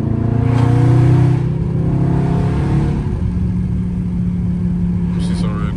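A Dodge Charger Scat Pack engine roars loudly and steadily, its pitch sweeping downward through a downshift amid wind noise, with a brief exhaust pop near the end.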